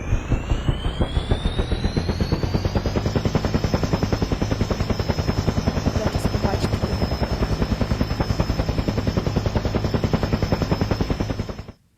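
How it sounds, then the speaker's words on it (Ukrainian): Helicopter in the video game Bari 2, a loud, close, continuous rapid rotor chop with a rising high whine, holding steady for several seconds before cutting off abruptly. "Бачите, тут гелікоптер, ми з ним сідаємо і вже він нас переносить."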